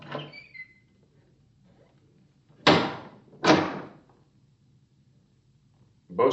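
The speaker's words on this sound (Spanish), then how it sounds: "Bertuccio se inclinó y abrió la puerta del saloncito." The door of a small salon opens as a radio drama sound effect: two sharp, close wooden knocks or clunks about a second apart, set in near silence between softer scuffing sounds.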